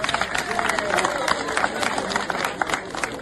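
Audience applause in a hall honouring the president, dense continuous clapping with crowd murmur, steady and fairly loud throughout.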